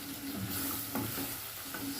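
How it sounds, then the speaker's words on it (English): Beef, tomato and onions are stirred in a cooking pot, a soft sizzle with scraping spoon strokes over a low steady frying hiss. "So I give it a good stir."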